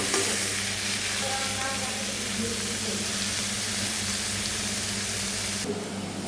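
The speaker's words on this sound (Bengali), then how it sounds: "একদম লো ফ্লেমে নাড়াচাড়া করে নিতে হবে।" Vegetables being stirred in a pan over a low flame while cooking dalia, with a steady sizzling fry and scraping stir strokes running throughout at close range, no voices.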